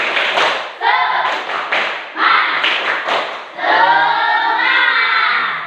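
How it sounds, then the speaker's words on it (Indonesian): A school class performs a rhythmic 'tepuk semangat' clapping cheer, several bursts of patterned group claps with chanted voices, ending in a longer sustained stretch of clapping and chanting. "memimpin untuk tepuk semangat agar lebih semangat"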